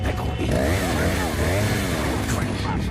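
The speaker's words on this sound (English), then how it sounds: "Chainsaw." Chainsaw from the video game Resident Evil 4 Remake revs with a buzzing, sputtering engine drone beneath loud overlapping voices.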